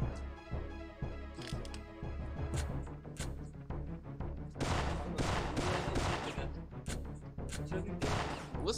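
Rapid bursts of gunfire from the Syphon Filter 3 video game crack out loudly in clustered volleys, with denser fusillades in the second half, over a steady game soundtrack.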